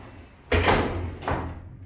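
Otis passenger lift doors, built or modernised in 2005, slide shut in a disused department store: a broad rumbling sweep starts the movement, then a second softer thud as the doors meet, over low machine hum.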